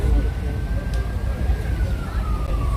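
A faint emergency siren wails slowly in the distance near Downtown Disney in Anaheim, its pitch gliding, over heavy low traffic rumble.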